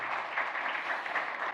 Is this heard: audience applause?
yes